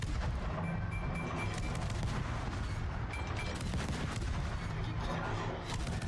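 Ship guns firing at an enemy in a naval battle video game, a dense, continuous roar of heavy cannon and gunfire booms layered close and loud without pause.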